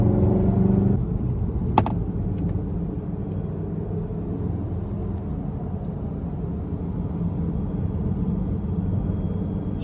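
Small all-wheel drive hatchback driving on a winding mountain road, a steady low engine and road rumble from inside the car, with a brief click and a faint chime partway through.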